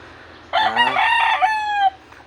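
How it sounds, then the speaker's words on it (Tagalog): A rooster crows once, loud and close, a long rising then falling call over quiet background in a backyard in the morning. "mga manok na ko diri ka backyard oh"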